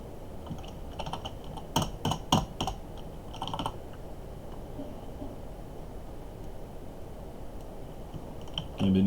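A computer keyboard being typed on in short bursts: a few sharp key clicks clustered early, then a long stretch of faint background hiss, and a thump at the very end.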